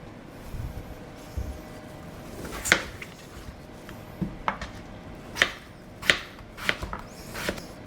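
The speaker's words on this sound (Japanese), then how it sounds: "じゃがいもを切って" Peeled potatoes are sliced thin with a knife on a cutting board, a series of crisp, close chops in an irregular rhythm over a quiet kitchen background.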